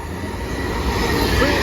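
An Avanti West Coast train passing through Bletchley station, a steady, loud rumble of wheels and rail noise heard close and continuous throughout.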